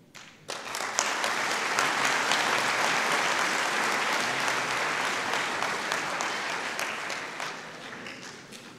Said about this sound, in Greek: αξίζεται το θερμό μας χειροκρότημα